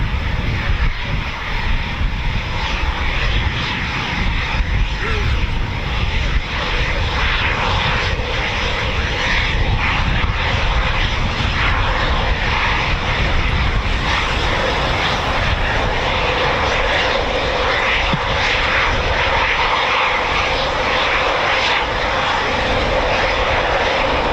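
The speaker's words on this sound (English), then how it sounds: "The English electric Canberra, serving as a medium bomber, again still part of Bomber Command." An English Electric Canberra medium bomber flying past, a loud, steady, continuous jet engine roar lasting throughout.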